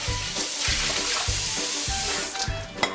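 Water from a tap splashes into a metal cooking pot being rinsed out, a steady rushing stream with irregular clanks and sloshes throughout.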